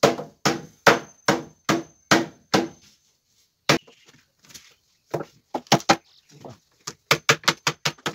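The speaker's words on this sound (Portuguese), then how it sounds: "Vou usar esse martelo aqui, ó." A hammer strikes a piece of pereiro wood to strip its bark, a sharp sequence of loud evenly spaced knocks, then a pause, then scattered irregular blows and a fast final burst.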